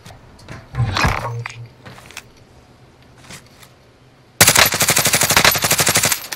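A loud, rapid burst of automatic gunfire in Call of Duty Warzone erupts after some scattered clinks and bumps, rattling steadily for about two seconds with a game-like, clipped quality.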